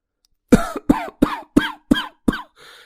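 A run of six sharp human coughs in quick succession, evenly spaced and close by, followed by a faint breathy trailing sound, in a cartoon.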